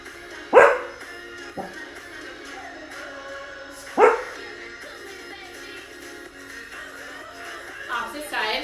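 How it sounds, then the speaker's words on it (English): A dog barks in a home workout space, two sharp close barks spaced a few seconds apart, followed by softer yips and whines, while a person talks through the exercise. "My dog cheering us on."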